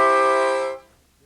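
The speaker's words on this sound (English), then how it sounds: "Bring the harmonica to your mouth and blow." A single sustained blown note on a 10-hole harmonica in C, held steady and close for under a second before cutting off into near silence.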